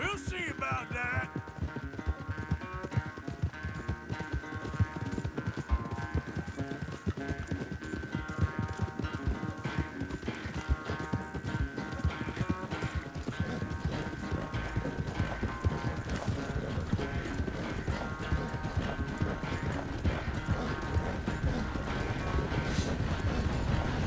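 Horses race in Red Dead Redemption 2, their hooves clip-clopping in a steady rhythmic pattern throughout, mixed with game music and ambient effects.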